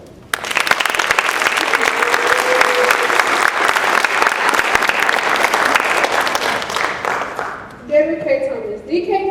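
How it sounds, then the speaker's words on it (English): Sustained audience applause honoring former women's basketball player Retha Swindell, loud dense clapping for about seven seconds, with a short flat tone partway through and speech and music-like tones emerging as it fades. "Swindell our appreciation by a round of applause"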